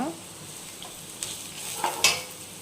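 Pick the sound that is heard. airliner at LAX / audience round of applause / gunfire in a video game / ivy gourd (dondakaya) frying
ivy gourd (dondakaya) frying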